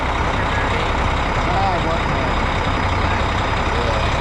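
A gravel dump truck's engine drones steadily and loudly up close, a continuous low rumble with no breaks, and voices talk faintly underneath.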